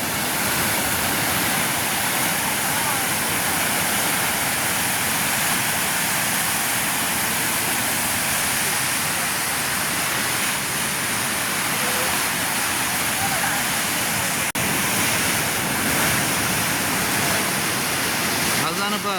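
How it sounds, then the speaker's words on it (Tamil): Steady, loud rushing of a swollen river flowing fast under a bridge at danger level, a continuous broadband roar that holds unchanged throughout. "அந்தளவுக்கு தண்ணி பாயுது"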